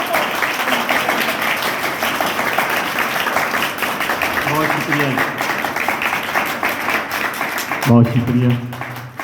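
A church congregation claps loudly and steadily at a service, the applause running throughout while someone speaks over it, his voice rising clearly near the end as the clapping continues.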